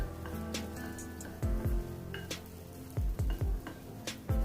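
Boiled, filtered calcium-rich vegetarian soup poured into a hot frying pan, giving a steady close sizzle with a few sharp splashing bursts and clatters of a pan or utensil.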